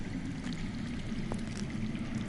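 Water flows underground in a Game of Thrones video game, a steady, soft rushing and trickling stream that runs without pause, faint and distant, with no voices over it.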